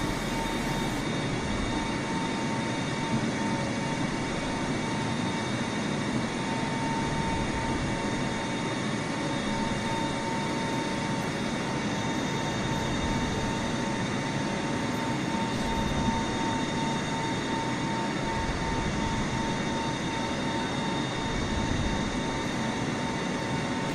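An IL-96 airliner in a flight simulator game, engines held at full throttle: a constant, loud, steady roar with a fixed whine layered on top, unchanging throughout with no voices.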